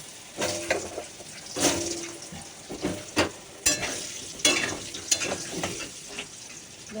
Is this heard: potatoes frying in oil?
yes